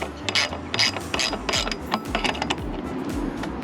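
Spanner ratcheting to tighten clamp bolts on a DIY 80:20 roof rack: a quick run of sharp, close metallic clicks with uneven rhythm, loud and alone.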